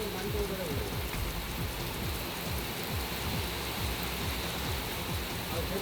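Heavy, steady downpour in Karnataka's Malenadu region, a dense, even wash of rain noise with scattered drop patter, continuous and unbroken throughout.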